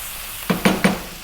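Spices sizzling and being stirred in a hot pan for chicken curry, three short bursts of scraping sizzle in quick succession, close and moderately loud.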